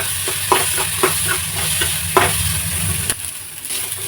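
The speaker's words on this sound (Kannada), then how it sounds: "ಗ್ಯಾಸ್ನ ಸ್ಲೋ ಫ್ಲೇಮಲ್ಲಿ ಇಟ್ಕೊಂಡು ಇದನ್ನು ಫ್ರೈ ಮಾಡ್ಕೋಬೇಕು ಇದಕ್ಕೆ ನಾನಿವಾಗ ಒಂದು ಎರಡು ಬೆಳ್ಳುಳ್ಳಿನ ಹಾಕೋತಾ ಇದ್ದೀನಿ" Brinjal masala with a couple of garlic cloves fries on a slow gas flame, a close, loud sizzle broken by repeated rhythmic scrapes and taps of a spoon stirring the pan.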